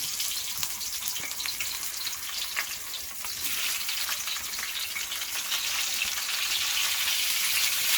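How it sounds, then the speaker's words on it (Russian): Steady, crackling sizzle of artichokes frying in a hot pan while making paella, a continuous hiss that grows slightly louder toward the end, with no voices. "Первым делом кладутся на сковородку артишоки."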